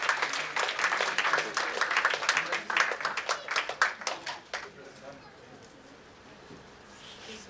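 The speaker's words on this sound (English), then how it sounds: "A big round of applause, please." An audience at a CA Day celebration honouring senior chartered accountants claps in a brisk burst that thins out and fades after a few seconds, leaving quiet room tone.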